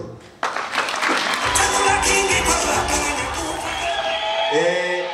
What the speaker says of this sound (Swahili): Wazazi, tuwashangilie watoto wetu makofi wote